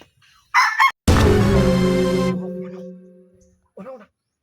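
Chickens and a rooster in a Filipino village setting: a short cluck burst, then a loud, long rooster crow that fades out, followed by another brief cluck, all close by.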